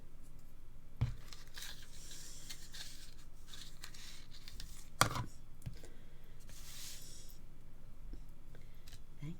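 Card paper being cut for handmade floral cards, with two sharp snips or tears standing out against a quiet background of faint rustling handling sounds.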